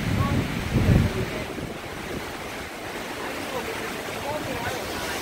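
Hurricane Irma wind roars in a steady broadband rush with a stronger gust near the start, sounding close and loud, with buffeting against the microphone.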